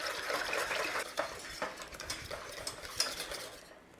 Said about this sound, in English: Now you stir this up at this stage and then you add a little bit more milk.